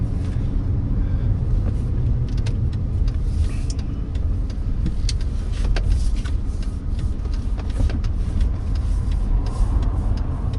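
A 1994 Mercedes 600SL with a 7.2-litre V12 drives along with a steady, deep engine rumble and road roar heard from inside the car, constant and fairly loud with no talk.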